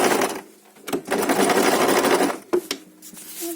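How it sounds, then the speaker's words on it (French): A nearby sewing machine stitches a fabric night cap in bursts of rapid, steady whirring separated by short pauses, with no talking. "Tu n'oublies pas de tenir ton fil en commençant à coudre et de faire un petit point d'arrêt"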